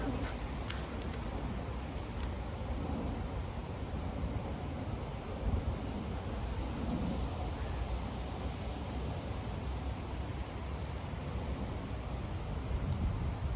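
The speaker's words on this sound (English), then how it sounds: "It is a really windy day" Strong wind blowing outside a greenhouse on a chilly day, a steady broadband rush and buffeting that stays fairly constant and low throughout, with no one speaking.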